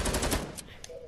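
Rapid automatic gunfire from Fortnite Battle Royale, heard as a quick burst of sharp repeated shots followed by a couple of fainter isolated cracks.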